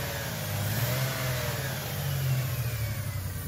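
A Toyota 4Runner engine running on fuel vapor, revving steadily at a moderate pitch with a continuous close drone and slight rises and falls in speed, no voices.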